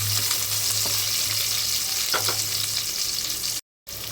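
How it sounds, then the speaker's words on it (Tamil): Onions and green chillies frying in a pan for veg nonbu kanji, a steady close hiss of oil with occasional scraping stirs, then a brief cut to silence before the sizzle resumes. "வெங்காயம் கொஞ்சம் நல்லா வதங்கட்டோங்க."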